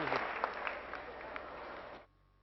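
Audience applause at a public speaking event, a dense, steady wash of clapping from a crowd that holds for about two seconds and then cuts off abruptly into near silence.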